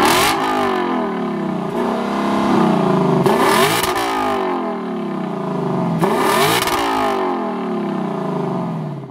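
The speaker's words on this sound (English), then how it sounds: "The other cool thing about the exterior of this car, that would be the exhaust note," A 2018 Lexus LC500 sports coupe's exhaust roars through repeated revs, sharp throttle blips rising and falling roughly three times, loud and close with no talking.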